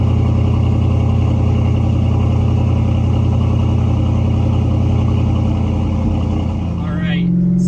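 A deep, steady exhaust rumble from an idling Dodge Challenger SRT8, loud and close, continuing without a break.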